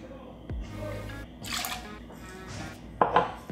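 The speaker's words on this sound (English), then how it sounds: "we're gonna start with 2 ounces of your favorite gin" Gin poured into a metal jigger for a Pink Lady cocktail: a short, close liquid splash with a few clinks and taps of glass and metal, no talking.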